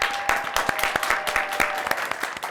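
A studio film crew claps for the first shoot of a Korean variety segment, giving steady, fairly close applause for a couple of seconds with a faint tone underneath.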